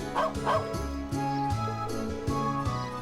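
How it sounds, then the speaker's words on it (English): A dog in the video game Trails of Cold Steel gives a run of short, bright yips and barks over steady background music, fairly close and lively, with no one speaking. "That's a cool dog."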